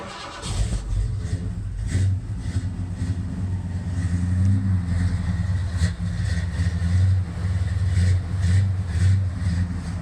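A 1964 Ford F100 with a carbureted engine and unhooked electric choke cranks, fires and runs, its loud rumbling idle rising and falling with repeated revs close by.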